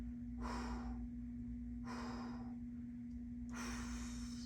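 Three heavy breaths, drawn in and pushed out at steady intervals during a stick mobility workout for spine and hips, close and fairly loud over a low electrical hum.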